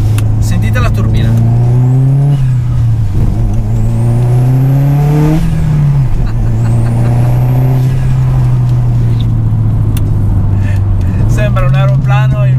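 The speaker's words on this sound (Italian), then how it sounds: "sto scarico fa casino, ma sentite la turbina" A Subaru WRX STi tuned to 428 hp pulls hard on the road, turbo whistle rising and falling over a loud, droning exhaust note that swells and dips with throttle; someone talks over it throughout.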